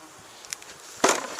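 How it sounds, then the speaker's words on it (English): Brief, faint bursts of honeybee buzzing at a hive, close by, over a quiet background. "There are the bees"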